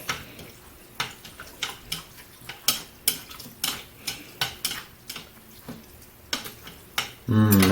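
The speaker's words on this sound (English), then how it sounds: "Then I'm going to stir it up." Noodles and eggs with sriracha sauce being stirred in a pan, a utensil scraping and tapping the cookware in a quick irregular rhythm of sharp clinks, close and fairly quiet, ending in a louder rush.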